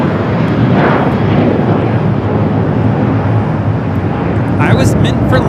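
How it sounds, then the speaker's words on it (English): A JetBlue A321 jet takes off from Los Angeles bound for Fort Lauderdale, a loud, continuous engine roar under nearby talk throughout. "taking off to Fort Lauderdale, JetBlue 1700 on this A321"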